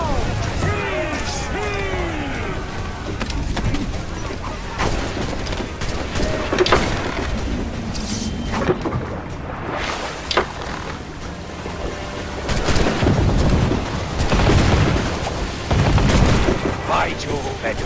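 Ship cannons boom in a naval battle in the video game Assassin's Creed 4 Black Flag, scattered heavy blasts over rushing sea and wind, with voices shouting orders throughout.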